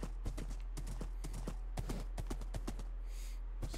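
A Minecraft horse's hooves clop in a quick, uneven rhythm of sharp close taps, its footsteps the main sound against a steady low background hum.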